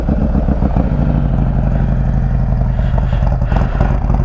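A 2020 Harley-Davidson Road Glide idling right after a cold start, a loud, close, steady low rumble with a lumpy pulsing beat and no voices.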